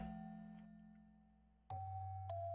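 Shrine bells in the video game Shiro no Noroi ring as faint, quiet chimes over a soft electronic hum, with a brighter bell tone striking about two-thirds of the way through and another shortly after.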